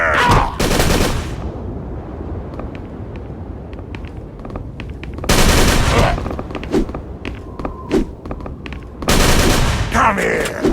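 Bursts of gunfire from the horror game Call of Cthulhu: Dark Corners of the Earth, loud volleys at the start, middle and end with quieter scattered shots and game ambience between them.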